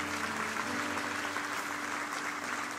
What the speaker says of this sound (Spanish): Den el mejor aplauso al Señor si usted lo cree en esta hora.